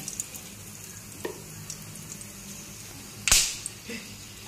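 Cumin, dried chilli, cinnamon and cloves sizzle in hot oil, a constant low crackle with a few light taps and one sharp clattering scrape near the end.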